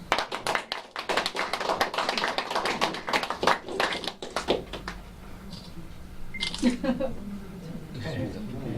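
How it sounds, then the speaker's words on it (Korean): Applause from a small group at an MOU signing for a Korean funeral culture improvement association, lively clapping for several seconds that dies away, followed by people talking. "큰 박수 부탁드립니다."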